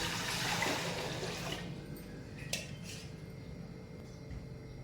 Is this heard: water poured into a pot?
yes